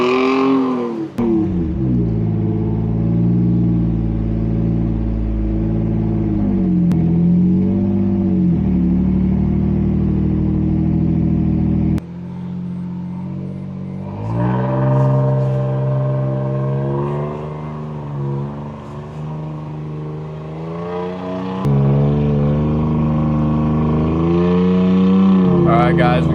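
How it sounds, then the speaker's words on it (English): A vehicle towing a Chevy toward a beach boat ramp makes a steady, close engine drone that swells and eases as it revs and shifts, with voices partly heard over the rumble. "we got this Chevy in tow, bringing him to the ramp"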